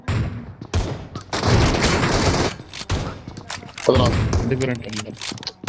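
Rapid gunfire in a first-person shooter video game, bursts of shots and booms crackling loudly over several seconds, with excited voices talking over the action.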